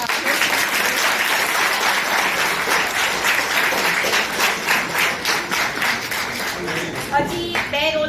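Students and staff applaud after a fourth-year BHMS seminar presentation on peptic ulcer. Sustained, fairly loud crowd clapping fills the room, and a voice starts speaking near the end.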